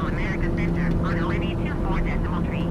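Fixed-wing airplane climbing out after takeoff from Liberia, Costa Rica, a steady cabin engine drone with slight chop, heard continuously beneath a voice talking throughout.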